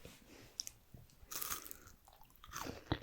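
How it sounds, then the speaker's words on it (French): Close-miked crunching and chewing of a cheese-flavoured Kit Kat wafer bar, with soft bites and moist mouth sounds in an irregular rhythm over a quiet background. "Mangeons ces Kit Kat au fromage."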